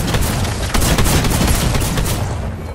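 A drum gun in a video game fires in a dense, rapid burst of gunfire, loud and close, sustained for a few seconds before tapering off.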